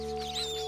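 A cartoon chicken on a sturdy bridge gives a short, bright cluck, a single brief call over a sustained musical tone.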